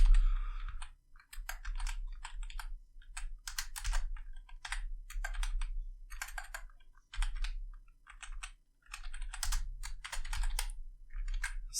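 Steady rapid keystrokes on a computer keyboard while HTML code is entered, a close, continuous run of clicks in uneven bursts with brief pauses and no talking.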